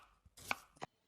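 Chopping food as a short sound effect: a couple of quick, crisp knife strikes on a board within about a second, close and fairly quiet.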